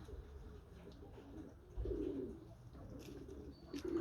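Pigeons in a loft give low soft coos, a few rounded bursts against a quiet room hum, with faint rustling and a light tap or two nearby.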